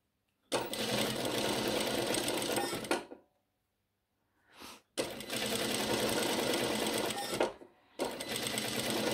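A sewing machine runs in long steady bursts while stitching a one-centimetre seam on a shirt, pausing briefly between runs, loud and close with no talking.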